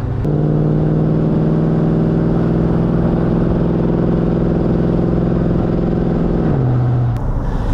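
A 1971 Mercedes 300 SEL 3.5 limousine climbs a hill, its engine a loud, steady, close drone that holds one pitch before dropping slightly near the end, with no talking.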